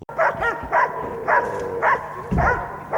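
Pair of Laika hunting dogs barking during a hunting trial, six loud, close barks in a steady rhythm with brief yelps between them.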